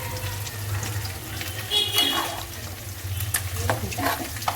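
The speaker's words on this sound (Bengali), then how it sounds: "এবার আমি হালকা অল্প ঝোল দিয়ে দিচ্ছি।" Broth is poured into a simmering spinach and fish curry, making a close, splashing and trickling liquid sound with a few bubbling bursts and light stirring clatter.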